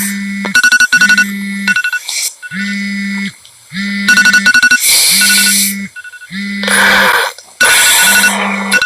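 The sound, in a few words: alarm ringing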